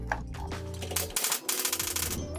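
Nail gun driving nails into an interior door frame during installation, a rapid series of sharp close-up snaps and clacks packed into a couple of seconds.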